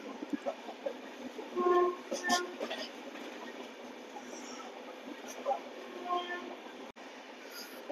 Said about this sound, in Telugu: ట్రైన్ వచ్చేసి LHP కోచెస్తో అయితే రన్ అవుతుంది